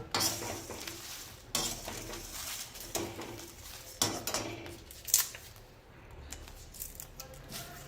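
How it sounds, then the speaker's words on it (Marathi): Dried bay leaves are snapped and crumbled into small pieces by hand, producing a series of dry crackling crunches and rustles at close range, with a few sharper cracks between the softer crinkling. "तेजपत्ता थोडासा कडक झाला की याचे असे बारीक तुकडे करून घ्यायचे आहे"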